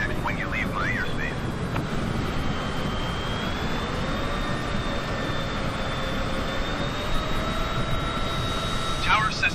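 A Cessna's engine drones steadily as a broad, unbroken roar in the Microsoft Flight Simulator 2020 video game, with a faint whine on top and brief radio chatter under it.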